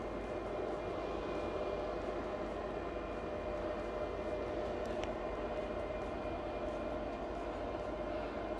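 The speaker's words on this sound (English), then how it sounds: "Let's listen to the fans." Fans of an Inergy Flex battery power station running a 1500-watt space heater, giving a steady close whirring hum with a constant tone and no talking.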